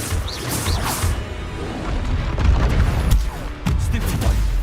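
The Expelliarmus spell cast during combat in the game Hogwarts Legacy, a loud booming magical blast with crashing impacts amid layered battle effects.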